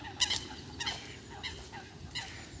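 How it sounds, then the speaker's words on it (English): A handful of faint, honking duck quacks from a park in Ilford, four spaced calls over a soft outdoor hiss, somewhat distant and low in level. "That's noisy ducks."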